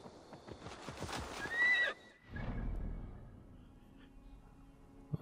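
A horse being called and ridden in the video game Assassin's Creed Valhalla: a loud whinny comes first, then hoofbeats and a snort, and the sound trails off toward quiet.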